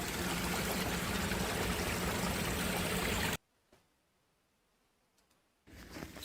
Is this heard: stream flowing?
yes